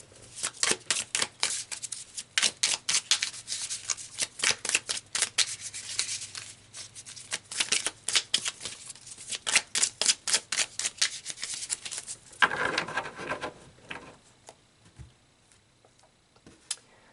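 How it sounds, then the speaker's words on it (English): Tarot cards shuffled and pulled by hand, a long run of quick, crisp riffling bursts in an irregular rhythm close to the listener, easing into lighter card handling near the end, with no talking. "So let's pull some more cards."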